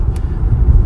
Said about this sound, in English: it looks like the cars are piling up over here, a lot of traffic